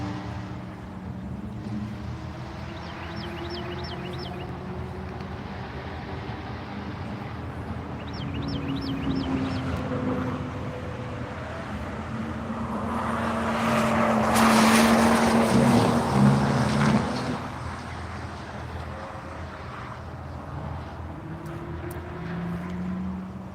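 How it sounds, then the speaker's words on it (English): The HP Tuners Toyota Supra race car sweeps past on the VIR track, its engine drone building from a distance to a loud close pass before fading, with other engine noise in the background. "here comes that slick looking HP Tuners Supra"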